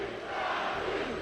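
A crowd roars and cheers continuously at the 2024 Pokémon Latin America International Championship grand finals, a dense, loud wash of many voices rising and sustained throughout.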